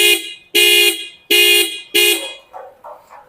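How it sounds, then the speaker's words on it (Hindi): Horn of the new Jawa Classic 350 motorcycle, four loud close honks in even succession with short gaps between them, followed by fainter quick tones. "अब एक बार जो क्लासिक 350 यानी कि जो नए फॉर्म में लॉन्च हुई है, इसका हॉर्न आपको सुनाते हैं।"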